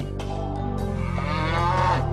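A cow in a Thai animated story gives a loud, sustained low moo that swells and holds for about two seconds, with no talk over it.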